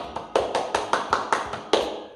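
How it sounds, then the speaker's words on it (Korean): Children clap together at a Sunday school service in a church, giving about eight crisp, fairly regular claps in a quick rhythm, near and distinct, with no talking. "우리 너무너무 잘하는 윤영문 친구들을 위해서 박수 한번 칠까요?"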